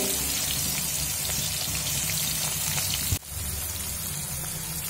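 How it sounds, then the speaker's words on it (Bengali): Teasel gourd (kakrol) frying in a covered pan over low flame, a steady, dense sizzle that holds evenly before dipping briefly near the end, with no talk over it. "এবার কাঁকরোলগুলো দিয়ে দেব। লো ফ্লেম করে ঢাকা দিয়ে"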